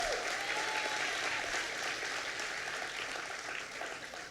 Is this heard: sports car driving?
no